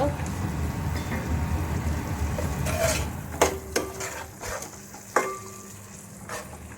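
Chole curry with turmeric and chilli powder being stirred in a pan, with a soft sizzle and several scraping, clinking spoon strokes against the pan under background noise.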